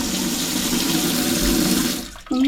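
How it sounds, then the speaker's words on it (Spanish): A pressurized bidet shower spray beside a toilet in a bathroom in Tabriz, Iran, gives a loud, steady hissing gush of water that cuts off abruptly near the end. "Un chorrito a presión."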